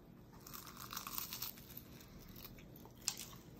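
A fried taco is bitten and crunched in a few crisp, close crackling bursts, quiet overall, with one sharper crunch toward the end.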